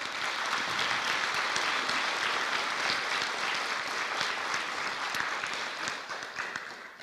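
Graduation ceremony crowd applauding, a broad wash of many clapping hands, somewhat distant and sustained before easing off at the close.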